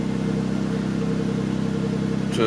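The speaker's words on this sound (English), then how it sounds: "starting the car and letting it idle for about 15 minutes, for about 5 minutes" Audi C7 A6 with a 3.0T engine idling steadily after starting, a constant low rumble with an even hum throughout and a brief bump near the end.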